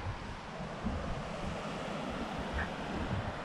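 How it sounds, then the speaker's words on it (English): Steady low ocean surf rolls and washes continuously on the coast of Zealand, Denmark, with a soft wind-like hiss and no voices. "Nothing beats the sound of the ocean,"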